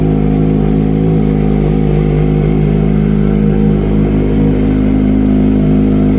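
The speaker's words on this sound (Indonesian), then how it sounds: "suaranya itu tipikalnya knalpotnya ini adem." A Kawasaki ZX25R motorcycle runs with a mellow-toned exhaust. The engine produces a loud, close, sustained drone with a steady pitch that holds without big rises or drops, and no one talks over it.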